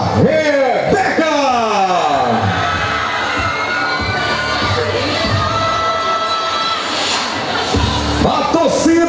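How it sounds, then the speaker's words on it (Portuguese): Excited audience at the São Domingos pineapple-queen pageant roars, shrieks and cheers for contestant Raíssa, a dense, loud wall of yelling voices with a few sharp whoops rising above it. "A torcida tá animada."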